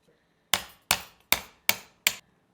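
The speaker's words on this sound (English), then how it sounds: "To knock that pin out, quite simple." A drill bit used as a punch taps a stainless steel locking pin out of a fishing reel mechanism resting on a cardboard roll, five sharp metallic taps at an even rhythm, close and clear.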